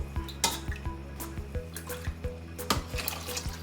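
Water is poured into rice in a pot while cooking white biryani in a home kitchen, with trickling and dripping water, faint clinks of metal vessels and a steady low hum behind.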